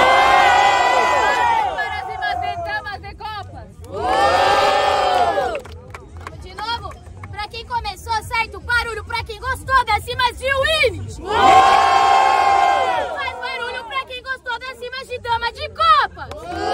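A crowd at a Brazilian freestyle rap battle, Batalha da Zil, erupting in loud cheering and shouting in three big surges, with a host talking over a microphone between them.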